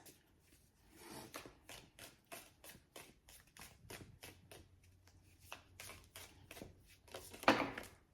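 A deck of cards is shuffled up close in a quick run of soft, regular riffling bursts, ending with a louder flurry.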